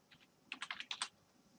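Quick typing on a computer keyboard: a short run of soft, close key clicks in an uneven rhythm, faint against a quiet room.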